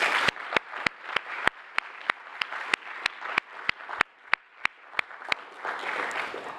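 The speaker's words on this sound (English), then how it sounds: "recognize all of our alumni with a round of applause, please." An audience at a summit livestream claps in a round of applause, with sharp loud claps cutting through a dense, even patter of many hands, steady throughout and fading into a softer wash at the end.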